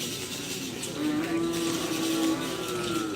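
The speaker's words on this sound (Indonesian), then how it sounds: "Nah, sapi Jawa." A Javanese bull lowing at a karapan sapi bull race, one long sustained moo running through most of the clip over a steady outdoor crowd murmur.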